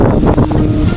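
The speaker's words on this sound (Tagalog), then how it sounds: "malakas yung hangin" Strong wind buffets the microphone beside the Angono river in Rizal, a loud, rumbling, gusty roar that fills the whole brief moment.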